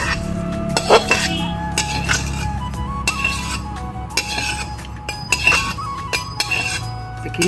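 Rice grains roasting in a pan on the stove for an Assamese sweet rice recipe, with repeated close metallic clinks and scrapes of a spoon stirring against the pan under a steady background hum.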